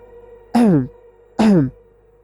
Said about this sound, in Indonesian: mendengar seseorang berdehem bersamaan dengan terbukanya pintu